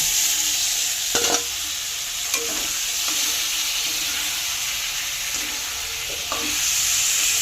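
Fried prawns and potatoes tipped into a hot spice masala for jackfruit prawn curry, giving a steady sizzle with a few scattered clinks and scrapes of the spoon.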